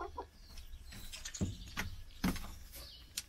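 Hens in a coop cluck in short, scattered bursts, quiet and close, with a few sharper calls standing out against a soft background.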